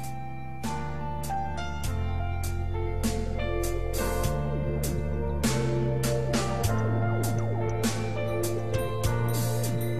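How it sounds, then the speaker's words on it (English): A luxury watch minute repeater ringing a series of clear metallic chimes, bright gong strikes in a steady sequence with long ringing overtones, close and alone. "That's the sound of a minute repeater"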